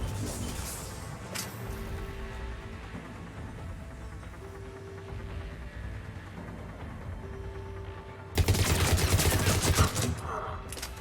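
Gunfire in Mass Effect 3, shooting through enemies' landing shields: a dense, loud burst of rapid shots erupts near the end after a steady rumbling game ambience with some faint background sounds.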